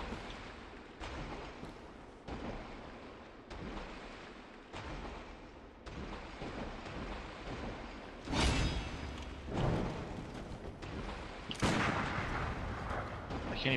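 Gunfire in the video game Bloodborne comes as a series of loud, booming shots with heavy thuds, spaced a second or two apart, with the last few blasts hitting harder and brighter over game ambience.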